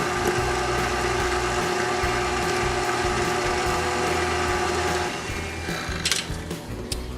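Bread dough of flour, salt, sugar, potato flour and yeast being mixed for a garlic pull-apart loaf, likely in a stand mixer, giving a steady, loud whirring and rubbing churn that continues throughout with no talk.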